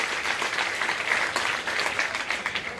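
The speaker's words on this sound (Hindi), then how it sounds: "आप तालियां बजाकर उन सारी कंपनीज का स्वागत करिएगा" A crowd at a job fair in Aurangabad applauds steadily, a dense patter of many hands clapping at moderate volume.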